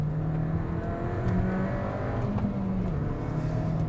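A 2013 Mini Cooper John Cooper Works GP driven hard through corners, its engine a steady, loud drone with shifting pitch throughout, no talk over it.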